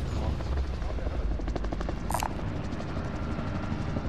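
Helicopter in the battle royale game Call of Duty Warzone Rebirth Resurgence, a steady rotor and engine drone filling the whole clip, with a brief sharp burst midway.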